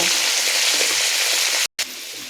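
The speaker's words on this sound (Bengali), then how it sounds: "এবার এখানে দিয়ে দিচ্ছি পরিমাণ মতো লবণ দিয়ে আমি আলুগুলোকে সুন্দর করে ভেজে নেব" Salted potato pieces frying in hot oil give a loud, steady sizzling hiss that cuts out for a split second and then resumes.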